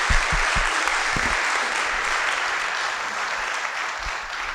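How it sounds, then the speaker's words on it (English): Audience applause at a conference plenary session, a steady dense wash of clapping from a full room that holds evenly and slowly eases over a few seconds. "how about a round of applause for all of us?"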